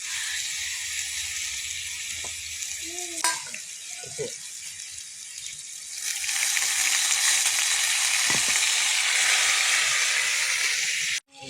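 Chicken patties fry in hot oil, giving a steady hiss and sizzle with a few light clicks from the pan. The sizzle grows louder partway through and then stops abruptly.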